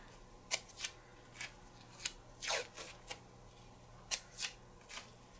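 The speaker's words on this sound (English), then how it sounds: "I'm gonna get smart and tear off some tape first." Pieces of tape are torn off a roll during a machine-embroidery towel topper project, with a series of short, close ripping and crackling bursts spaced irregularly and no talk.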